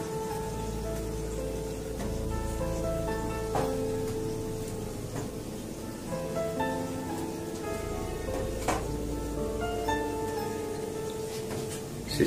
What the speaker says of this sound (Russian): Все слышат, да, как капает вода?